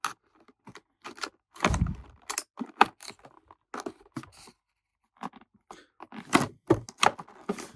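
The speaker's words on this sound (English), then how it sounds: "we cut into the cardboard" A blade cuts into cardboard packaging while a toy is unboxed, giving irregular sharp scratchy tearing and crunching bursts separated by short silences, close and moderately quiet.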